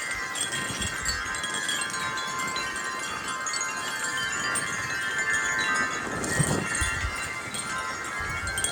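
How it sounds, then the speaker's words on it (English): A strong gust of outdoor wind roars steadily throughout, with broadband rushing noise swelling into a louder surge near the middle and no talking. "It is windy today."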